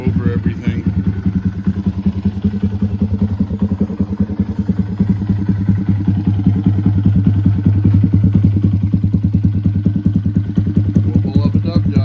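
A 2022-or-later Honda Grom fitted with a LeoVince LV10 dual high-mount exhaust idles steadily and loudly, its engine putting out a continuous low, throbbing pulse that holds for the whole stretch, with a slight lift in level partway through.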